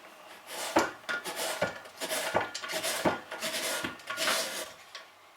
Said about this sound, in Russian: У кабачка отрезаем ненужные хвостики и начинаем его натирать.